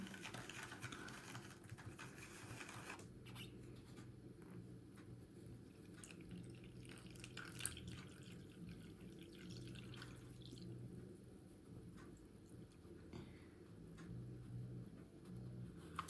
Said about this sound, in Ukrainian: склянку фільтрується чиста вода, а пісок залишається на поверхні паперу.